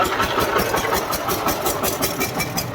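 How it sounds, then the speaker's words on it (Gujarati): A tractor parked among chikoo orchard trees on a farm runs steadily, its engine chugging in a continuous, loud rhythmic idle throughout with no voices over it. "મિત્રો અહીંયા ટ્રેક્ટર રાખેલું છે"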